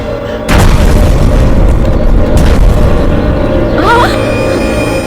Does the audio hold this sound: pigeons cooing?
no